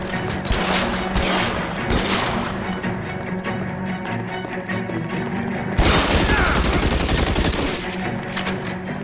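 Heavy sustained gunfire in L.A. Noire during a shootout at the Nicholson Electroplating plant, dense overlapping rifle and pistol shots with crashes, loud and continuous, with a sharper burst of fire partway through.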